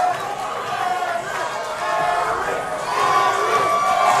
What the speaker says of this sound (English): McClendon's crowd is in Erik's corner, and you got Erik's crowd is in McClendon's corner